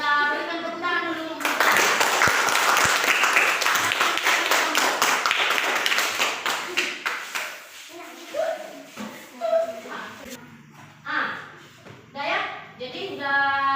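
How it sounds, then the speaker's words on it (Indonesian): A classroom of students claps for group A after their brochure presentation, a dense burst of applause that fades out, followed by scattered voices of children and a teacher talking. "Terima kasih kepada kelompok A. Kita berikan tepuk tangan dulu."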